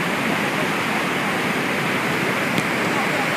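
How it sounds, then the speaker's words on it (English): Floodwater from a once dry stream roaring past as a raging river through a devastated hospital compound during floods in Kasese, a loud continuous rushing wash of noise with no break. "into this raging river"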